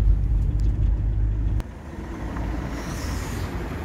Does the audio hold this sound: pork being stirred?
no